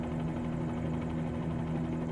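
A Bell 47G helicopter engine in the flight simulator game MSFS2020 drones steadily with a low, even rotor hum, quiet and alone with no talking.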